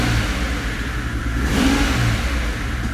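A twin-turbo AMG Mercedes V12 with a misfire, running rich and without coolant, idles as a steady, close, low rumble with a slight surge partway through.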